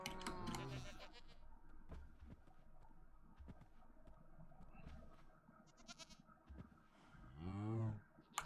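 Minecraft goats bleat in the video game: one quivering bleat at the start and another wavering, louder bleat near the end, with soft game sounds between them and a quiet overall level.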